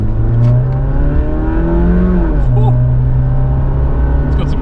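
A big block Suzuki Jimny engine accelerating on the road, a loud, close drone rising through the gears with a clear drop at a shift before climbing again, faint voices underneath.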